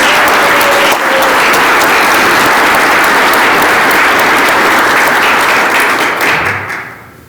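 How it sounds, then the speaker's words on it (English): A large audience at the Westover awards gala for the 439th Airlift Wing breaks into loud, sustained applause, a dense wash of clapping that fades out at the end. "Let's have one more round of applause"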